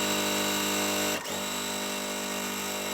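A sewing machine stitching the bottom piece onto a quilt block, running in a loud continuous whir with one short pause around the middle before starting again.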